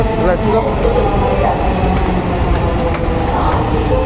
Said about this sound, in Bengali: আমাদের ট্রেন চলে আসছে।